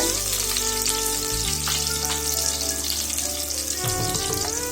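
Onions sauté in a pan for a green gram rice dish, a dense continuous sizzle and crackle, close and steady, with occasional stirring and tonal background hum.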